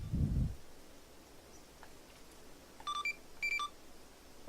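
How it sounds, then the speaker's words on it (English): A long-range radio gives two short electronic beep tones in quick succession, faint and clean against quiet background after a brief rustle. "the short range gives a crackle, the long range gives a beep"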